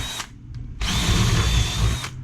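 A power drill bores holes in a homemade wheeled stand for a GY6 50cc scooter, with a brief whine, a short pause and then a longer steady high-pitched grinding run, heard up close.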